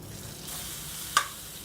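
Soft sizzling of ginger and garlic frying in hot oil with cumin and carom seeds, a steady crackle with a brief louder spit near the end.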